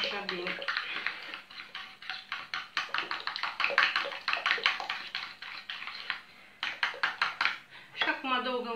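Batter being beaten in a bowl with 50 grams of melted butter for a cornmeal cake, giving rapid rhythmic scraping and clinking strokes at close range, with a brief pause near the end and a voice speaking over the mixing.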